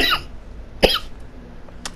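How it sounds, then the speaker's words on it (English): A person gives a few dry coughs at close range: a sharp burst, another at about the midpoint and a faint one near the end, with quiet background between. "I have a dry cough, and it's not going away."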